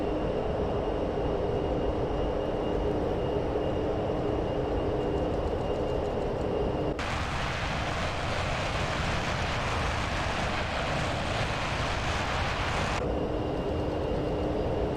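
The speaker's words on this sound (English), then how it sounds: "Can you hear that howling tone? It's very unique to Olympus engines" Loud, steady roar of jet engines running, with a sudden surge in intensity midway that holds for several seconds before dropping back to a lower drone.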